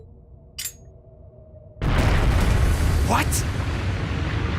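A bomb goes off in the video game Trails of Cassius: a sudden loud, sustained roaring blast that fills the space, with a rising whoosh on top. A brief spoken exclamation comes just before it.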